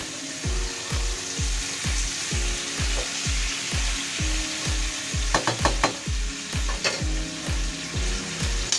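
Pork for humba sizzles loudly in a hot pan while being stirred, with steady frying hiss and a regular series of scraping spatula strokes against the pan, close up and with no talk.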